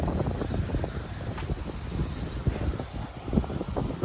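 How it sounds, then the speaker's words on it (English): Wind buffets the microphone on a hillside hiking trail near a bridge on Kai Kung Leng (Roosters Ridge), a steady rough rumble with gusty low thumps throughout and no voices. "It's windy here."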